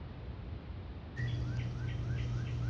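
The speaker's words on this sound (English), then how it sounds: "That's a pleasant bird song!" Birdsong plays in a horror video game, with a series of bright, repeated chirps and upward-sweeping whistles that start suddenly over a steady low hum and continue in an even rhythm.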